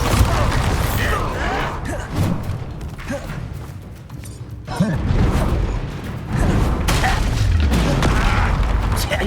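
Deep booming blasts from the Bombarda spell in Hogwarts Legacy, several heavy thuds and crashes with rumbling debris at irregular intervals, loud and close.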